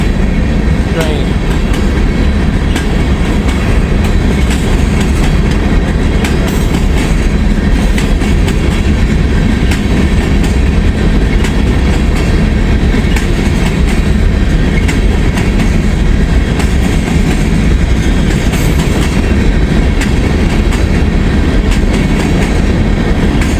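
A long Union Pacific freight train rolls past loudly and continuously in Ohio, its heavy wheels rumbling and clattering without letup the whole time.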